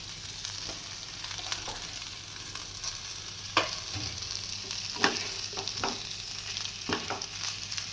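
Mashed potatoes frying in a pan with spices, stirred now and then, giving a steady close sizzle broken by scraping knocks of the spoon.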